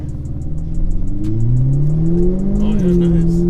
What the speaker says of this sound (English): we'll drive it right now for a second with the exhaust off